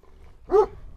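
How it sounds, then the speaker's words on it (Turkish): A single short, sharp bark from a dog rings out close by against a quiet background. "Yani bu köpek güzel köpek bak."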